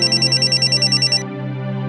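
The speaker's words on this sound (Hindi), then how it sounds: "फोन बज रहा है, फोन उठा लो वरना मैं रिंगटोन पे नाचने लगेगी" Mobile phone ringtone chirping in a rapid repeating electronic pattern, loud and close, then cutting off and leaving a sustained tonal hum.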